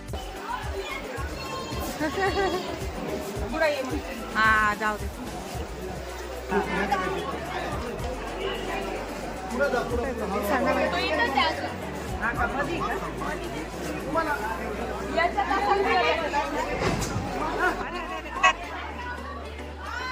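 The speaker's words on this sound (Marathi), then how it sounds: "इथे पण गर्दीच आहे." A crowd packs a train station platform, making a continuous babble of many voices with nearby people talking over it throughout.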